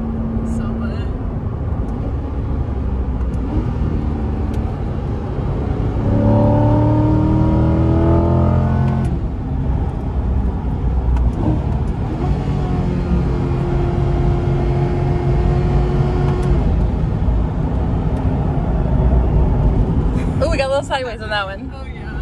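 A Chevrolet C8 Corvette driven hard through corners on a race track, its engine a loud, continuous drone that rises and falls in pitch with acceleration, heard in-car beneath someone talking.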